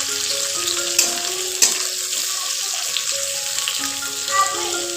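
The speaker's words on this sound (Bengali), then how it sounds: "তারপর আমি ফুলকপি ভাপিয়ে নিয়ে এই দেখো হালকা গোল্ডেন ব্রাউন করে ভেজে নিচ্ছি।" Steamed cauliflower frying golden brown in oil, giving a steady close hiss and crackle that runs unbroken, with a couple of brief clicks from the pan.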